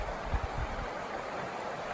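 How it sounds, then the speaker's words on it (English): Trail Creek in the Teton Wilderness flows with a soft, steady rushing babble, heard close but fairly quiet, with no voices. "Coming up on Trail Creek."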